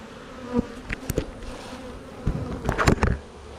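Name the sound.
honeybees buzzing around an opened hive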